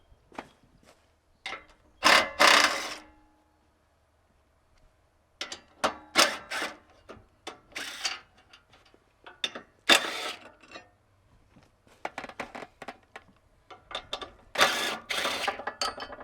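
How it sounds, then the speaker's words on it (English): 11 millimeter ratchet wrench removing shipping bolts from an RV entry step, quick bursts of rapid clicking ratcheting separated by short pauses, close and fairly loud. "So we're going to take them off now with 11 millimeter."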